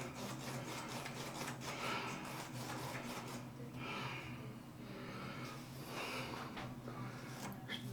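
A razor blade is stropped on a towel, giving soft rhythmic rubbing strokes back and forth, faint and close, over a low steady hum with no talk.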